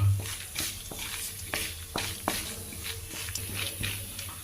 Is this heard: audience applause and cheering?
no